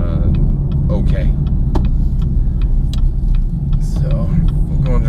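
A 2016–2019 Chevrolet Camaro with a Stainless Works exhaust rumbles steadily and loudly from inside the cabin, a deep continuous drone with small clicks and rattles on top.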